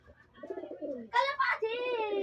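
Pigeons cooing close by, with soft low coos and then louder, throatier warbling calls, heard alone in a quiet indoor space.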